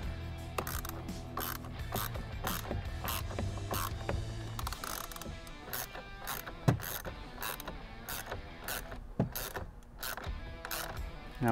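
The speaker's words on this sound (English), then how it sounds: "We're going to retrieve the 10mm screws and reinstall those." Small 10mm screws being driven back into a C8 Corvette carbon fiber steering wheel, a run of close, clicky ratcheting and mechanical ticks with a few sharper knocks, steady throughout and without talk.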